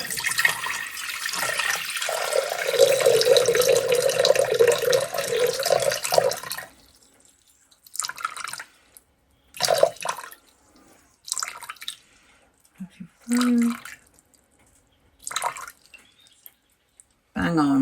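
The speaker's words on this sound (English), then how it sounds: "So I need to add 550 grams of water." Tap water pours steadily into a Thermomix bowl for about six seconds while bread dough is being prepared, followed by short bursts of clattering kitchen handling and light movement sounds.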